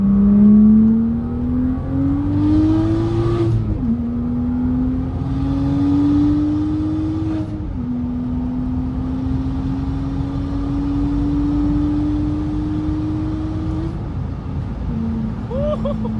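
A straight-piped BMW 335i with the N55 engine and a manual gearbox, heard from inside while driving: a loud, raspy exhaust drone that climbs in pitch through each gear, with brief dips at the shifts.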